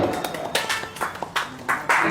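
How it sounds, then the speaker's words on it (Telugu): Several people clap their hands at a small celebration in a used mobile phone shop, with a few scattered, uneven claps and no steady rhythm. "ఇంకో claps claps claps claps claps claps"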